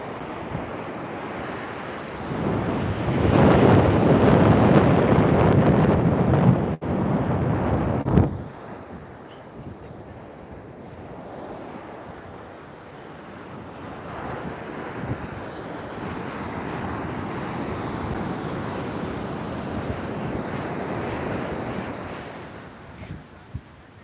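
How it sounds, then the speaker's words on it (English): Ocean waves rolling in on a very windy day at Laguna Beach, a loud surging roar at first that eases into steady, softer surf with gusts buffeting the microphone. "Look at the ocean is rolling."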